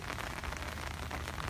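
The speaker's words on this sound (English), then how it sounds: "it's starting to rain again" Rain falling over a flooded Mid-City New Orleans street the day after major flooding, a steady soft hiss of drops with no voices over it.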